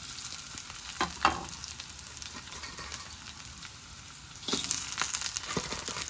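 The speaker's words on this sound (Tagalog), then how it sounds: "Kaya magpiprito pa ako ng isda." Fish fries in a pan with a steady crackling sizzle close by, a few sharper pops and stirring sounds, swelling louder near the end.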